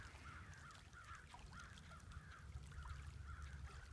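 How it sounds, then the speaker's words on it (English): American crows cawing in a misty winter outdoor setting, a series of repeated harsh calls at moderate distance over steady low background rumble. "Here are the crows, American crows."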